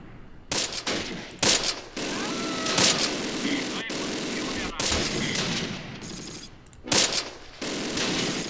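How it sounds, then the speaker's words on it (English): Mortar and gunfire in the video game Close Combat, with a Panther tank battle in fog, sound as repeated sharp bursts and thumps over a constant battle din, some close and loud, others fainter. "We're already getting some decent shots with our standard actual mortar fire there."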